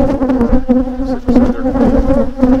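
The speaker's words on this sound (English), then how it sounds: "there are a fair number of bees in the front of the hive" Many honeybees buzz steadily and close by at the front of a hive, a dense droning hum with individual insects passing near and away.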